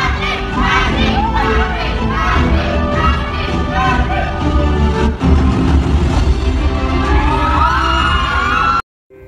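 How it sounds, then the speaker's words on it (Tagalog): Fans and supporters scream and cheer for Kathryn Bernardo at an awards event where she is named Box Office Queen, a loud, continuous roar of high-pitched shrieks and shouting from a packed crowd that cuts off abruptly at the end. "Nagsisigawan at tuwang-tuwa ang mga fans at supporters ni Kathryn"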